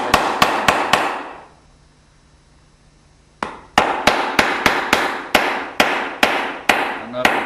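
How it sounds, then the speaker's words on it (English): A hammer drives metal wedges into the corner joints of a picture frame, sharp close taps in quick series, a pause of near silence, then another steady run of evenly spaced strikes. "you can hear that change of the sound when that wedge bottoms out in there"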